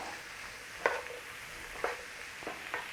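A spoon stirs a sausage and bean casserole in a pan, a soft steady sizzle underneath with about four distinct scraping strokes spaced roughly a second apart, close and fairly quiet, no talking.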